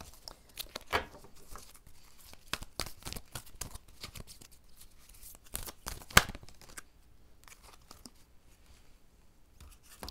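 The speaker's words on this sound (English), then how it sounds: "I'm just going to keep shuffling." Cards are shuffled in quick, crisp bursts of riffling and flicking, close up, with short pauses between rounds.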